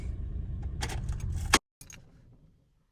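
A Chevrolet Traverse is switched off with the key: the running engine's rumble and jangling keys cut out abruptly, followed by a short fading mechanical settle and then quiet.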